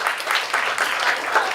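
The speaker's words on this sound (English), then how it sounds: "A round of applause for her." A small audience applauds a student winner at a Swift app presentation event, a brief, steady patter of many hands clapping at moderate distance with no voices over it.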